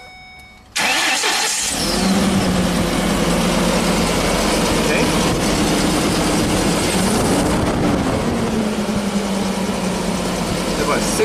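A Ford E450 bus with a V10 engine cranks and then roars into a loud, steady running drone that holds for several seconds, close up, with voices talking briefly over it.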